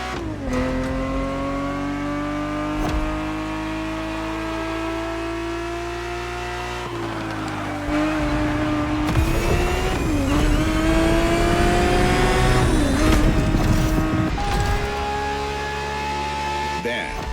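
A Ferrari 365 GTB4 engine races in The Crew Motorfest, with sustained revving that rises and drops through gear changes, loud and close throughout.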